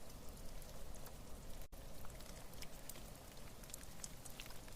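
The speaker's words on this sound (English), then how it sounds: "I recorded some of the most soothing and mellow rain that I've ever recorded." Soft, mellow rain captured in an Icelandic field recording, a gentle continuous patter of scattered drops with occasional brighter ticks, quiet and even, with one brief dropout partway through.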